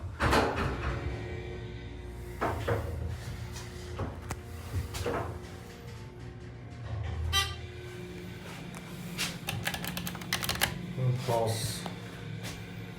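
A Dover Oildraulic holeless hydraulic elevator at the Ron Jon Surf Shop on LBI, New Jersey, runs with a low motor hum, scattered clunks, clicks and door knocks, and a short chime-like tone, with faint voices nearby.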